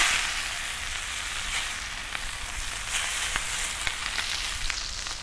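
Bone-in pork chops sear in a hot pan, giving a loud, dense and continuous sizzle up close with scattered sharp crackles and spits, and no talking.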